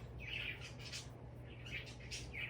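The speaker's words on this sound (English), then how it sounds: "I hope y'all don't mind the birds in the background." Pet birds squawk and chirp in several short, faint bursts, distant in the background of a quiet indoor room, with no speech.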